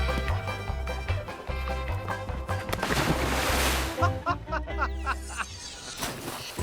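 A person runs across water in a test, and loud splashing and sloshing carry on throughout with continuous rough water noise.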